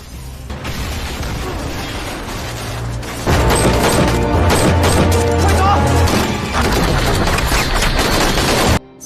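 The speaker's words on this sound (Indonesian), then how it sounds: "sambil dihujani peluru" Rapid gunfire fills a film shootout, dense automatic bursts and booms growing louder midway and continuing until an abrupt stop.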